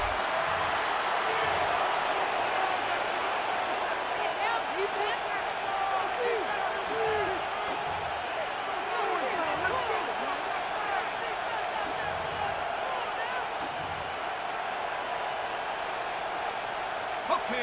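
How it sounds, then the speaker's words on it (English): Stadium crowd noise from a Madden NFL Ultimate Team football game, a continuous roaring wash of cheering fans with faint scattered thuds, running beneath steady play-by-play commentary. "The crowd making their presence felt."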